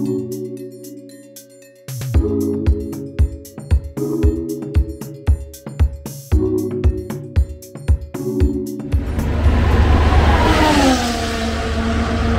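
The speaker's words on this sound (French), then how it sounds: "il y a des grosses voitures qui passent sur la piste déjà" Large support-race cars pass on the track at the Miami Grand Prix. A loud roaring pass with a sweeping pitch arrives near the end, after a stretch of punchy rhythmic beats.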